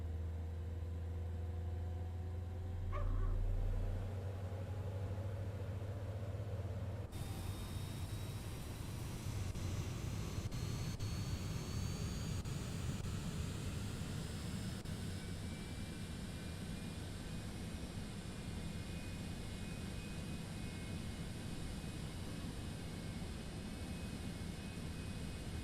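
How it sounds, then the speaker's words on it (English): A Citation X business jet engine spools up in the video game Microsoft Flight Simulator 2024, shifting abruptly into a loud, steady turbine roar with a rising whine that sustains to the end. "Good engine start there."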